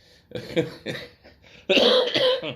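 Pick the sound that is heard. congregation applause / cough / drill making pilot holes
cough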